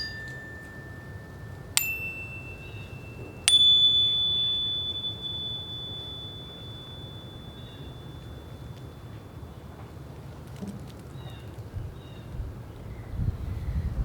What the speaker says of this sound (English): listening carefully for my chime.